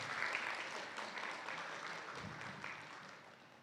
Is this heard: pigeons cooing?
no